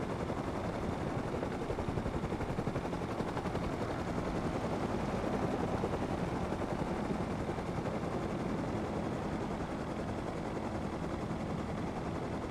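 Helicopter up close in the video game Rust, a steady dense rotor and engine roar that holds loud and unbroken throughout, with no voices over it.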